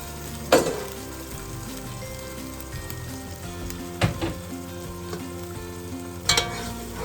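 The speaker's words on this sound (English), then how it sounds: "I'm going to stir that round, and what I'm going to do now is I'm going to let that fry for a bit" Yam porridge base frying and being stirred in a pot, a steady soft sizzle running throughout with a few sharp scrapes or clinks of the spoon against the pot, close and alone without any talking.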